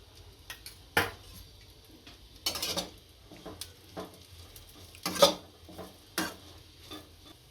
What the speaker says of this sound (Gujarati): આમાં આપણે ટુકડા કર્યા હતા બ્રેડના એ નાખશું અને શેકી લેશું ઘીમાં